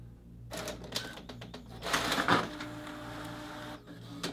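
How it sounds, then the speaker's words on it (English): A Brother MFC-J995DW all-in-one inkjet printer printing a longer document double-sided, close and mechanical, with whirring feed motors, rhythmic clicks and shuttling clatter throughout. "And to prove that, Mac OS, printing in"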